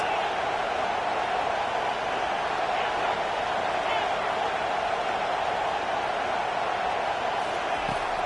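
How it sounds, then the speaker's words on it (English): A college football stadium crowd roars steadily and loudly throughout, a dense wall of cheering with no break. "Listen to this crowd just shaking the girders of this place"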